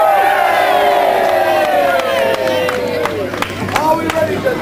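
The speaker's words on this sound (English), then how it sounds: "So please cheer them on." A crowd cheers loudly and steadily at a backsword fighting final at the Oyster Fayre, with whoops, shouts and scattered claps, close and continuous throughout.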